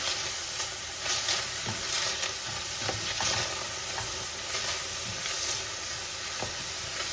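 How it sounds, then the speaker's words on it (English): Onion and tomato stir-frying in a dry pan without oil, a continuous soft sizzle and hiss broken by scattered light scrapes and taps of stirring, with no talk. "You can hear the sizzle here."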